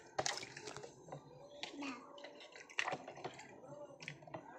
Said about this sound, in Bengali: এ নাও মগ দিয়ে মাথায় জল ঢালো।